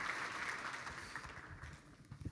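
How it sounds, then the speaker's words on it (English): Audience applause for a guest speaker at a sold-out business success conference in Vancouver, a steady, dense wash of clapping throughout, fairly distant, with a slight swell near the end. "Give Thank another round of applause"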